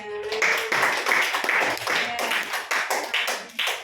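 Classroom clapping from students after a group presentation, a few seconds of uneven bursts of hand claps with a voice speaking over them.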